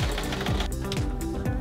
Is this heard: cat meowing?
no